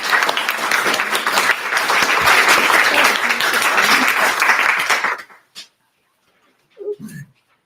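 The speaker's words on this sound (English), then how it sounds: "Please give a round of applause for Christine Obers." Applause from a lecture audience at an arts and lectures event fills the room for about five seconds with dense, steady clapping, then stops abruptly, leaving near silence apart from a brief faint sound near the end.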